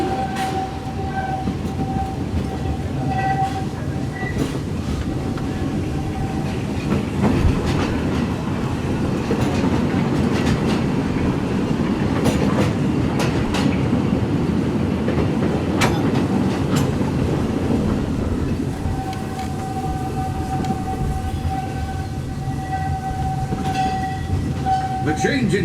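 The Walt Disney World Railroad train rolls along its tracks with a steady rumble and clatter and occasional squeals and whistle-like tones, while a narrator's voice plays over the ride.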